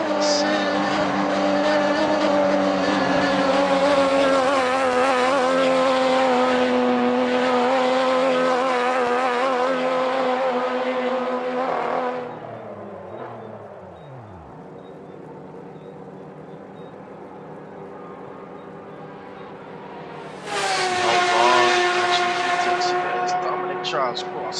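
Porsche Cup race cars at Road America blast past at full throttle, a loud, dense engine roar that fades to a lull mid-way before another car screams by up close, with commentary running underneath.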